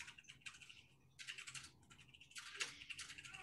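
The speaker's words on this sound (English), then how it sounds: "Somebody's typing." Bursts of quick, faint key clicks from typing on a computer keyboard come in three short runs with brief pauses, heard alone and at a distance.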